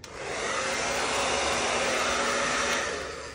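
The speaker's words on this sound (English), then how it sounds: "I'm just gonna hit this with the hairdryer a little bit." A hair dryer blows steadily at close range to heat glue on a Lego fingerboard rail, a continuous loud whooshing hum that holds for several seconds, with no voices.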